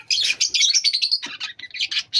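Pet Java sparrows and Australian parrots kept as pairs chirp and tweet in a busy, overlapping chorus of bright, high calls, close by and fairly loud, with no talking.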